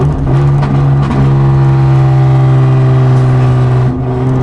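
Hyundai Genesis Coupe 3.8 R-Spec V6 fitted with headers, test pipes and a catback exhaust, revving loud and close as a steady, raspy drone that climbs in pitch in steps and then drops near the end, with no talking.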